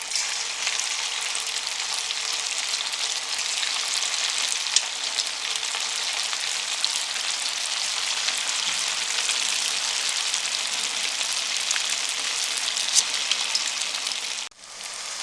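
Potatoes frying in a kadai over a medium flame give a dense, steady sizzle with a rain-like crackle, close and even, that cuts off abruptly near the end.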